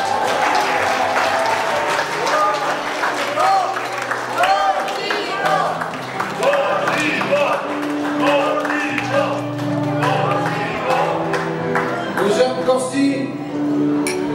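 Wedding guests applaud at a Bulgarian wedding reception while a host's amplified voice speaks over the steady crowd clapping, with music in the background.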